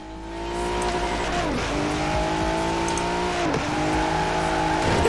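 A tuned off-road car in Forza Horizon 4, reaching about 200 km/h, drives with a loud sustained engine drone that climbs in pitch, drops briefly at two gear shifts, then keeps revving up.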